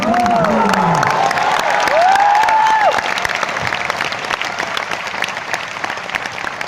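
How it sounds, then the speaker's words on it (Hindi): A student audience at a motivational session claps loudly, a dense burst of applause with some cheering; voices and whistle-like tones ride over the first few seconds before the clapping continues alone. "उन लोगों के लिए जोर से ताली बजाओ"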